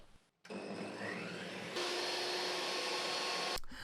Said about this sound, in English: Into the base panel I'm scoring 2 slots with my table saw.